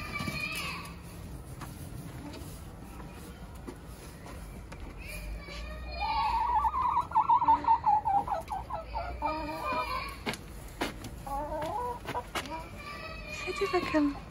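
Chickens in a backyard coop, a small flock of about five, clucking and squawking in bursts, close by and fairly loud, with people talking over them and children's voices nearby.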